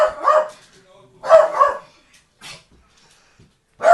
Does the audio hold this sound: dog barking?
yes